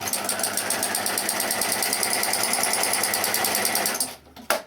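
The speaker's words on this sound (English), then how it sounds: "just do a few stitches to see what your stitch looks like" Domestic sewing machine stitching fine cotton at a 2 mm stitch length: a fast, even mechanical whir runs steadily for about four seconds, then stops, followed by a couple of small clicks, close and with no talk.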